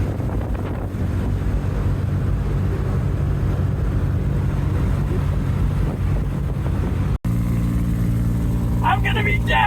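A worn-out 2002 Ford truck with blown rear shocks drives along, its steady low rumble and road noise mixed with heavy wind buffeting, while one voice speaks briefly near the end.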